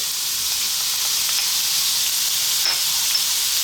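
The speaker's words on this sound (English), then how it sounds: "We're now going to go in with that onion and that garlic" Onion and garlic sizzling in a hot pan over lively heat, a loud, steady, close hiss of frying that holds evenly throughout with no talk.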